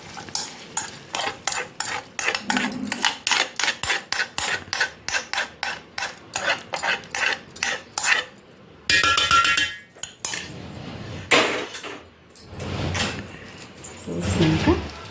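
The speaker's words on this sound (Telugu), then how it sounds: "ఆ రైస్లో పోసేయాలి వీటిని" Yellow turmeric rice being mixed with a poured tempering for raw mango pulihora, giving a steady run of close, rhythmic scraping and stirring clicks, with a few bursts of louder clatter between strokes.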